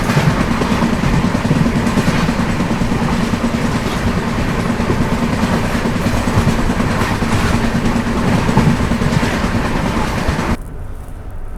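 Inside a First AC coach of the 22434 Suhaildev Superfast Express, a loud continuous rumble with rapid rail clatter runs throughout, easing slightly near the end.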